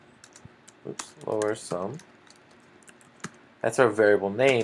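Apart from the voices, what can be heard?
typing on a computer keyboard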